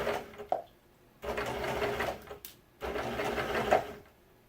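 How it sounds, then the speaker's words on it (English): A sewing machine stitches a fabric hair scrunchie in two short runs, a close, rapid mechanical whirring that stops and restarts, with quiet pauses between bursts. "Now we'll sew right off the edge"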